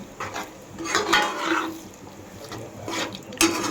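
Water is poured into a pan of Surat gotalo as it cooks, giving a soft, close splash and sizzle with faint stirring and utensil clinks, and no talking.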